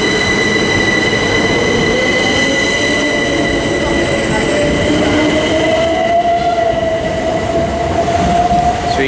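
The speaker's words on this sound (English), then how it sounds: "Another train." A train rumbles loudly and steadily through Tonbridge railway station, England, with high tonal whines and a rising squeal from the wheels, continuous throughout.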